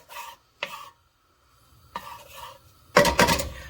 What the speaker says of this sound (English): We want to saute our onions and our garlic in our pan